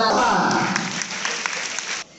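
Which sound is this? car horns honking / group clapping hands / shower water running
group clapping hands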